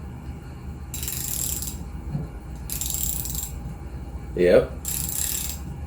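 Go-kart live axle being cranked by hand, giving repeated bursts of ratcheting, whirring mechanical noise in a regular rhythm with brief pauses between them, up close, with one short spoken word.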